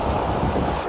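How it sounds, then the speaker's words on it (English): Big ocean waves at Fort Walton/Destin beach give a brief, loud, continuous rushing wash with heavy wind buffeting the microphone and no voices. "These waves are massive out here"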